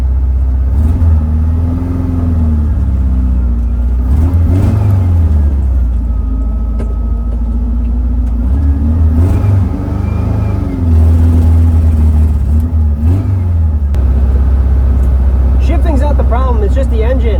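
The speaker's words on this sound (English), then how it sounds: "It's just the engine." A drag race car engine drones steadily, rising and falling in pitch as it revs, loud and close, with scattered knocks and rattles.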